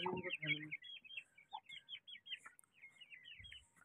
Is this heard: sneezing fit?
no